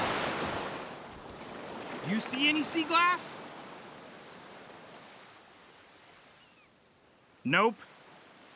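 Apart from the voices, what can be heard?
ocean waves washing on a beach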